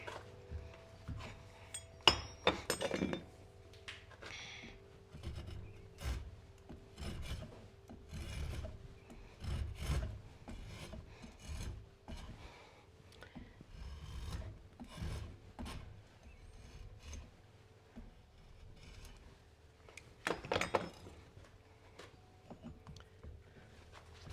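A drawknife shaves an oak hammer handle, giving repeated rasping, scraping strokes of varying length with occasional clinks of the tool, close by and with no talk.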